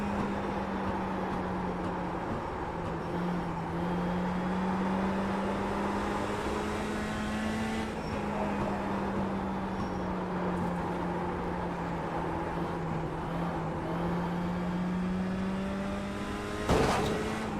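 Mini stock race cars in the iRacing sim, with a steady, continuous engine drone that rises and falls slightly in pitch, holding close and loud throughout, with a brief sharp knock near the end.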